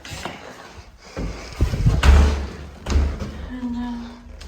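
An old wooden door at a former railway station is handled, giving a few heavy thumps and knocks with creaky scraping between them, close by and fairly loud, without speech.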